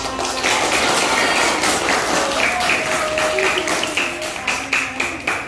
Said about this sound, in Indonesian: Sebelumnya tepuk tangan dulu untuk Bapak.